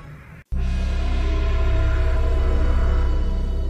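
A spray can sprays in one long, steady hiss that begins abruptly after a short, quieter lead-in and continues loud and unbroken to the end.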